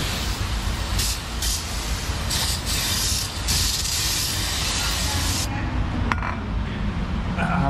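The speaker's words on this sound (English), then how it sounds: "I'm gonna spray." Aerosol spray used while working on a GMC 2500 truck rebuild near the differential cover, a continuous loud hiss with short bursts and pauses.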